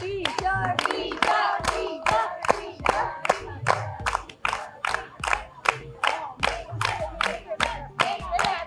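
Rhythmic clapping and chanting from a game show audience cheering on two contestants, steady beats running throughout with voices mixed in.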